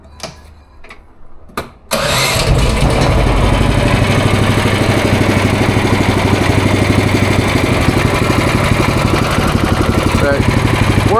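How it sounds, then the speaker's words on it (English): A small outboard boat motor with a newly installed FlexRing starts after a couple of sharp pulls, then settles into a loud, steady running drone close to the mic. "That way there's no resistance when the motor goes to start."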